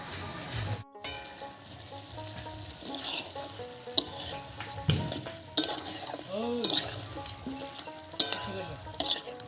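Lau shak stir-fry with dal bori and a spoonful of sugar is stirred in a frying pan, a soft sizzle running beneath irregular scrapes and clinks of the spoon against the metal.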